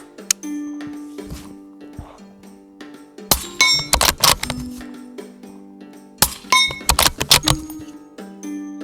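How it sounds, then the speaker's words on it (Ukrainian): Rapid subsonic rifle shots from a suppressed Mauser M18 carbine with an A-Tec silencer, in two quick bursts, each strike followed by a ringing metallic clang from a steel gong at 50 metres. "спробую постріляти максимально швидко в гонг на 50 метрів"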